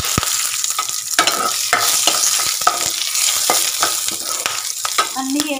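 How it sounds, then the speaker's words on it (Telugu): Fenugreek seeds, cumin, curry leaves and green chilli tempering frying in hot oil for a raw mango dish, a loud continuous crackling sizzle with sharp pops and spatters throughout, up close and alone. "మెంతులు, జీలకర్ర, కరివేపాకు కలిపి వేసుకుందాము. పోపు బాగా వేగాలి."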